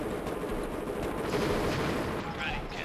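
Tanks in the real-time strategy game KKND fire nonstop, a dense, continuous rattle of gunfire and blasts that fills every moment at steady loudness.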